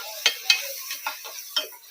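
Ginger garlic paste sautéing in a pan for chicken biryani, a soft sizzle punctuated by several sharp ticking clicks and scrapes of stirring, close and fairly quiet.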